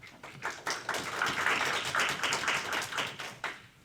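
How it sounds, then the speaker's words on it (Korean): An audience at an academic forum claps steadily through the whole moment, a dense continuous patter of many hands with no voices over it. "힘찬 박수 부탁드립니다"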